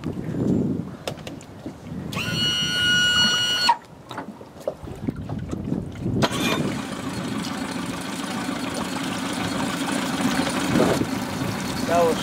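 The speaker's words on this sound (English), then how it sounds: "The 20 horsepower Tohatsu power tilt works perfectly on this boat" A 20 HP Tohatsu power-tilt outboard engine on a GRAND S370NL rigid inflatable boat, running steadily as a low mid-pitched drone with water noise, louder in the later half after a brief mechanical whine and knocks early on.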